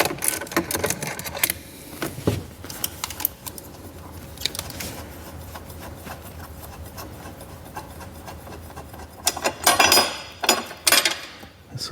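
A wrench works a 13 mm battery hold-down bolt in a Golf GT3 RS engine bay, giving close metallic ratcheting and scraping clicks in irregular bursts, with louder clattering near the end.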